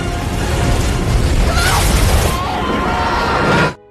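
A rock wall explodes in a loud, roaring blast with rumbling debris noise that holds steady for a few seconds before cutting off abruptly.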